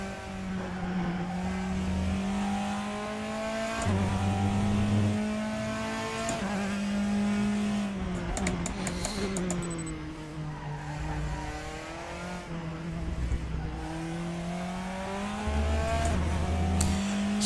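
Race car driven in the RaceRoom sim racing game, a steady loud engine drone with gear shifts and revving swells, plus tire squeal and skidding through corners, with no talking.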